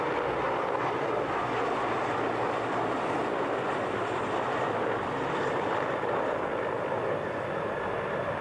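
Steady, broadband roar of an airplane engine, continuous and fairly loud throughout with no talking, like a nearby aircraft rolling or running up.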